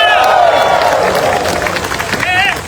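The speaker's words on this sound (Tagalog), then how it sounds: "Palakpak kami kasama sigawan." Audience at a Manila city hall flag-raising ceremony honoring city workers, clapping loudly together with shouts and cheers, a dense close burst of applause and voices.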